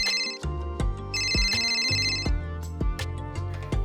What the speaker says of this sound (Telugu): మా అమ్మ ఇప్పుడు ఫోన్ చేస్తుంది.